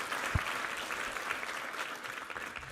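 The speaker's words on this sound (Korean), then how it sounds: "우리 하나님께 감사와 영광의 박수 올려드리겠습니다." A church congregation at a Sunday worship service claps together in praise, a steady, dense round of applause heard from some distance, filling the hall throughout.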